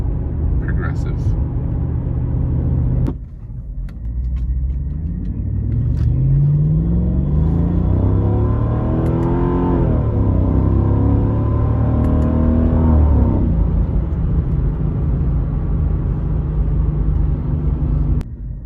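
A high-mileage Mercedes E55 AMG with a transmission tune accelerates hard from near a stop. The engine note rises in a rumble that climbs through the gears and then settles into steady cruising noise, with a voice audible early on.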